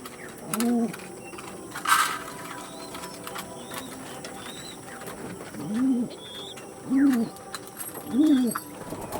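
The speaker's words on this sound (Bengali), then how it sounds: "একটা পায়রা ছেড়ে দেখাচ্ছি স্ট্যান্ডিংটা" Pigeon cooing in a loft or cage, a series of low, soft, rounded coos repeating every second or so over a steady background hum, with a brief brighter chirp early on.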